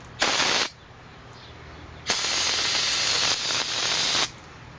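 Two bursts of aerosol spray cleaner hiss close up onto motorcycle bearings from a Kawasaki Ninja 250R cam chain tensioner: a short spritz, then a longer sustained spray lasting about two seconds.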